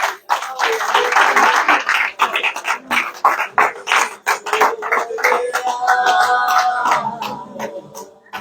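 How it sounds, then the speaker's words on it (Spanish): A church congregation claps loudly and unevenly in a burst of applause, sharp clustered claps close by that soften toward the end, with some voices rising underneath. "Un aplauso al Señor."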